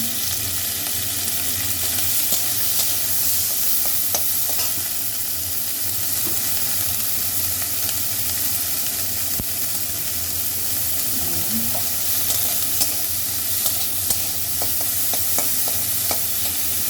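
Chopped onion and small green chillies fry in a little oil while being stirred, a steady close sizzle with light scraping throughout, and no speech.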